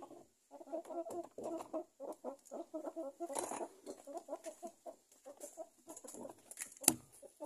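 A chicken clucks repeatedly in short, busy bursts, fairly close, with a brief sharp squawk near the end.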